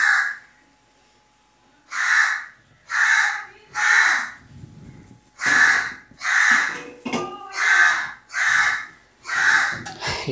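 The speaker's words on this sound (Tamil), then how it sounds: "காக்கா கத்திட்டு இருக்கு." A crow caws repeatedly outdoors near a home kitchen, about eight loud, harsh calls in an uneven rhythm, close by and alone.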